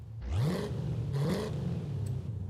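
A Ford F350 pickup with its stock 5.7 engine in Forza Horizon 5 blips its throttle twice in quick succession, each rev climbing and dropping back to a close, steady idle drone.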